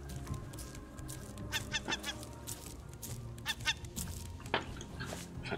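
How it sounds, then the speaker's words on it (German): Goose-like honking from a bird in the survival video game Raft, several short honks in quick bursts over a steady game ambience, moderately loud and fairly close. "Vogel."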